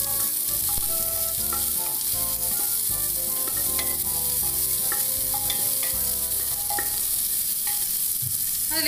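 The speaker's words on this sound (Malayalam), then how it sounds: "ഇനി നമ്മൾ ഇതിലേക്ക് എടുത്ത് വെച്ചിരിക്കുന്ന സവോള ഇട്ട് കൊടുക്കും" Onions tipped into hot oil with curry leaves fry with a steady, close sizzle, while scattered clinks and scrapes of a spoon against the pan break through the constant crackle.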